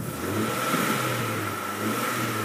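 A 1999 Jeep Grand Cherokee Limited engine runs steadily at a smooth idle, a close, even hum with a faint steady whine on top, alone without voices.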